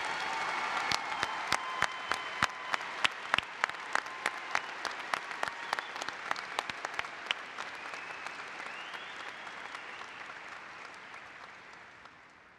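A commencement audience applauds new Doctors of Education at a university graduation ceremony, with sharp, distinct claps at first blending into a broad wash of applause that slowly tapers off across the hall.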